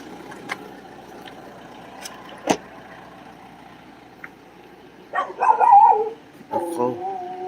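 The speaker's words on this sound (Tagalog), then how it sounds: "May mga aso pala dito." Several dogs bark in short bursts near the end, moderately close, over a quiet outdoor background with a few faint knocks and thumps earlier.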